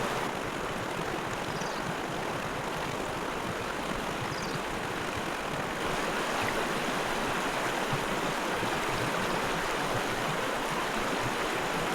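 Tom's Creek flows steadily near a trailhead, a broad, even rush of water that holds constant and fairly loud without a pause.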